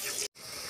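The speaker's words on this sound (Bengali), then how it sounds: "এবার আলুগুলো আমি ভেজে নেব।" Potatoes frying in hot oil with turmeric in a wok, a steady sizzling hiss broken by a brief silent gap before the sizzle resumes.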